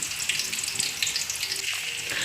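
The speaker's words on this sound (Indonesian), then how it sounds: "masukkan bumbu-bumbu yang sudah kita haluskan tadi ke dalam minyak goreng yang sudah kita panaskan" Ground spice paste for beef rendang hits hot frying oil in a wok and sets off a loud, steady, crackling sizzle that stays close and unbroken throughout, with no voices.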